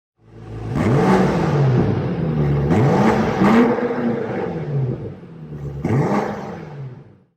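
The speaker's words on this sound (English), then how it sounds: "Under the hood of the BMW X5 M Competition lies a beast of an engine. 625 horsepower, 8-cylinder powerhouse." A 2024 BMW X5 M Competition's 625-horsepower V8 revs close and loud, with several rising bursts of engine roar, each climbing then falling back, with no speech.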